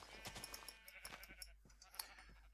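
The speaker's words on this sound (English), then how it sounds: "Any other sheep close by? Yes, I hear some over here." Sheep bleating in the Minecraft video game, several quick, faint bleats in a row over a low background hum.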